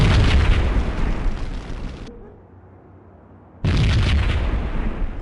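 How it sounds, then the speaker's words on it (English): A bomb going off inside a slum building in a video game, heard as a loud roaring blast that cuts out abruptly into near silence, then a second burst of explosive rumble returns just as loud. "Another bomb exploded inside the closest slum building."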